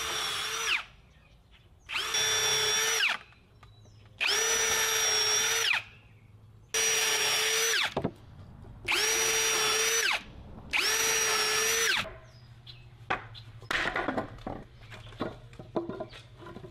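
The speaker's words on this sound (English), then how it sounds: "Gonna go ahead and drill some countersunk holes on the ends here so I don't crack it." A power drill boring countersunk holes into the ends of wood boards for a trash can blind, six loud whining bursts of about a second each, separated by short pauses, followed by faint handling clatter.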